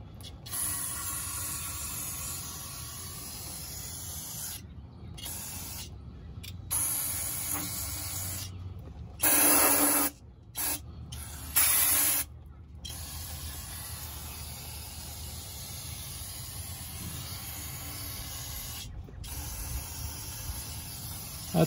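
Parts cleaner sprayed from an aerosol can to rinse the inside of a Jeep Wrangler gear housing, several bursts of loud close hissing separated by brief pauses, with no talk.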